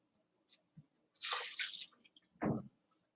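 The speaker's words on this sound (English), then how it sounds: "So now we're going to add the rest of the borax and water we used earlier." Borax and water are added to a slime mixture: a few soft, close drips, then a short wet splash, then a thick squelching pour, quiet against near silence.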